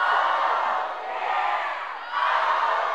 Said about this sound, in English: when I raise my fist in the air, I want you to say, oh